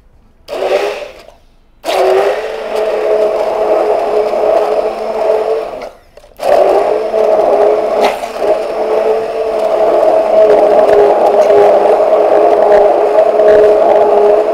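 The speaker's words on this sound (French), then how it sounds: "Nous procédons donc à la rendre une crème homogène avec notre mixeur plongeant." Immersion blender pureeing cooked butternut squash with onions into a smooth soup, a loud steady whirring motor with two short pauses early on, then running continuously.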